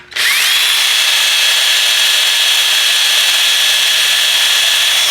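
A power drill bores steadily through a broken bolt, its bit grinding out grainy metal filings under light pressure; a loud, continuous high whine starts abruptly and holds for several seconds with no talk.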